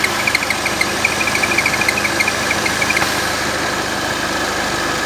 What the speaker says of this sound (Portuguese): quando despressuriza o motor, ó, eu vou despressurizar, vou abrir, o barulho da correia para